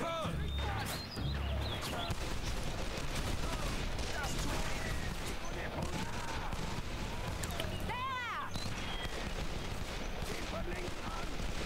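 Dense gunfire from the shooter game Call of Juarez: The Cartel, rapid overlapping bursts and shots crackling nonstop over a busy battle bed, with voices talking through it.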